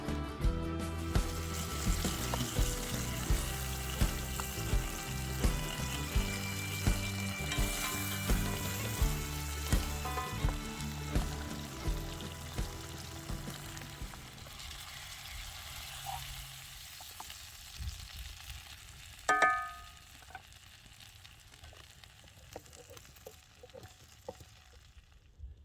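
Butter sizzles and fries steadily in a pan at an outdoor off-grid breakfast, a busy crackling hiss that fades away over the second half, with a brief clink near the end.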